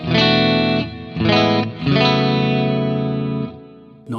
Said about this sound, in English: we'll look at our reverb here, which is the wide hall with a fairly minimal level